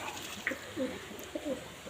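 Soft, low coos from a paired blue hen pigeon and cock sound faintly over a hissy background, a couple of short murmuring calls close together.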